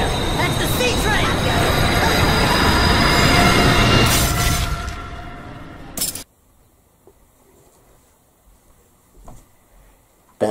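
A train rushes through a tunnel with a loud, sustained roar and rumble of wheels that fades out abruptly, leaving near silence with a few faint knocks.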